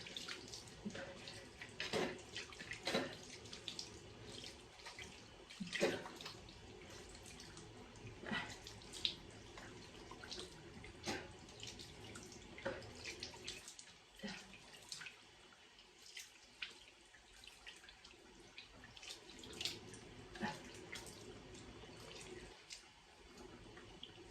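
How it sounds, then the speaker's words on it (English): Water runs into a bathroom sink while someone splashes their face, a faint continuous trickle broken by irregular splashes and drips over about twenty-four seconds. "now I'm going to just splash my face"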